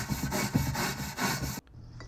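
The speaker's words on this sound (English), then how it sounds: "Now I'm just going to get all the gasket chunks off and, wire brush it." Old gasket material is scraped and wire-brushed off a Datsun L24 oil sump pan, giving steady, rhythmic, close abrasive strokes that end abruptly in near silence.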